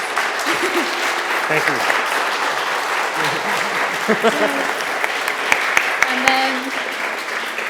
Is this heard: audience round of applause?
yes